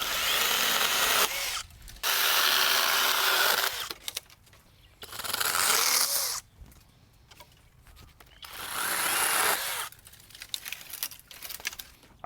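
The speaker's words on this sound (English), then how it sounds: "these little hand pruners are gonna come in real handy right now" A Skil cordless power pruner on a pole saw cutting small branches outdoors, three separate bursts of motor whine and cutting lasting about two seconds each, with quieter gaps and rustling between them.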